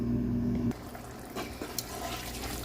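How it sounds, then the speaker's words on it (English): Running tap water pours steadily over smoked fish being washed in a sink, a continuous close splashing stream that shifts in tone partway through as the flow changes, with a few small knocks. "Here is my smoked fish. I'm going to wash it out and then put it in,"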